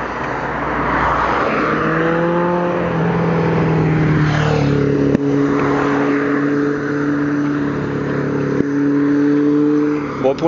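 A car engine rises and sweeps past close to a cyclist on a road in Aix, its pitch sliding down as it goes by, with steady road and wind noise throughout.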